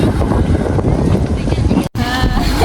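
Wind buffeting the microphone on a small boat ride off Mindoro, a loud steady rumble with a brief cut near the end and faint voices underneath.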